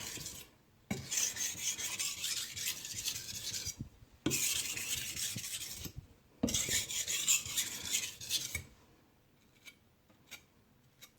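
A kitchen knife is sharpened on a whetstone in three long rasping passes, each bright, gritty and close, separated by brief pauses, followed by a few faint light scrapes.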